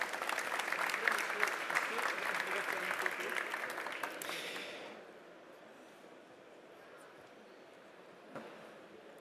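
Audience applause at a talk on ecological transition in building, dense clapping for about four seconds that fades away into a quiet room with faint murmuring.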